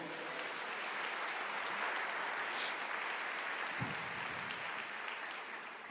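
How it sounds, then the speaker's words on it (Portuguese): A church congregation applauds during a sermon, a steady, even wash of many hands clapping at low level throughout, with no one speaking over it. "Você pode aplaudir o Senhor?"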